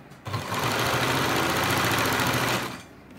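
A sewing machine stitches a side pocket into a salwar in one continuous, loud, close run of about two and a half seconds, humming and rattling steadily before stopping.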